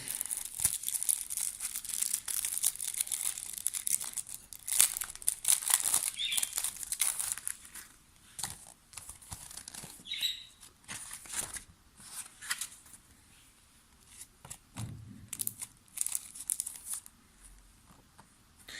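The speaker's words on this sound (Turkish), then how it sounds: "Şimdi ekran koruyucumuzu açalım." Plastic crinkling and tearing as a screen protector for a Fujifilm X-T200 camera is unwrapped, with close, irregular rustles and crackles that grow sparser toward the end.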